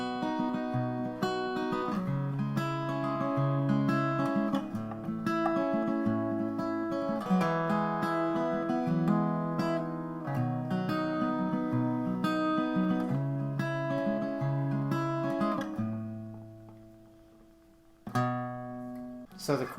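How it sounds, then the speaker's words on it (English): An acoustic guitar strums the chorus of a song in close, clear chords with a steady rhythm, briefly fading near the end before one more strum comes in. "Now the only other part you need to learn for this song is the chorus, and it's going to sound like this."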